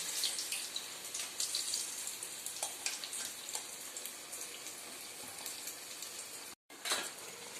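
Papad frying lightly in a pan of oil, a soft continuous sizzle with faint crackles, close but quiet, cut by a short moment of silence near the end.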